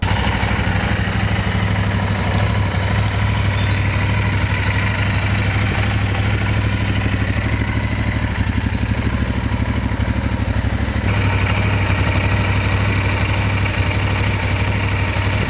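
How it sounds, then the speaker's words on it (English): A freshly washed Royal Enfield Interceptor 650 twin-cylinder motorcycle idles steadily with a close, even, low rumble that continues unbroken throughout. "Letting your engine run for at least 10 minutes will help all the water that's stuck in between the nooks and crannies of the engine."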